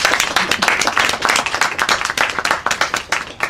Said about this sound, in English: Let us give the legacy of this museum a hand.